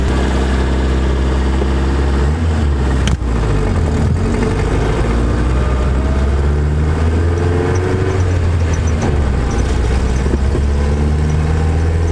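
A 1973 Toyota Celica fitted with a new exhaust drives along, its steady low engine drone and exhaust rumble dominating throughout, with shifting pitch as revs rise and fall and a brief thump midway.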